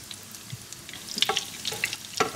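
Breaded Babybel cheese frying in a pan, a soft, close crackle and sizzle with a few small pops and scraping touches over roughly two seconds.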